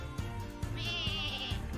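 Sheep bleating in the farm-themed video game Lumberhill, a wavering, sustained bleat rising above a steady game soundtrack with rhythmic low thumps.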